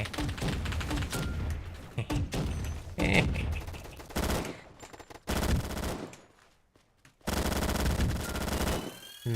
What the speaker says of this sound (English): It's launcher time.